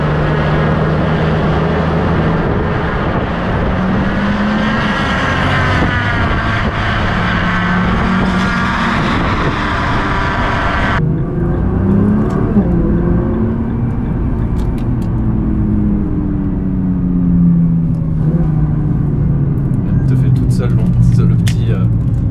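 A Toyota Supra on noisy slick racing tyres in Gran Turismo gives a steady engine drone and tyre roar throughout, the pitch rising and falling as it drives, under continuous talk.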